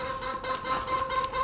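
Chickens cluck nearby in short, soft, irregular calls over a faint steady background tone.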